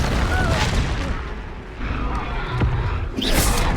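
Booming fire-spell explosions from the video game Hogwarts Legacy erupt in loud bursts, with a fresh blast near the end mixed among game effects.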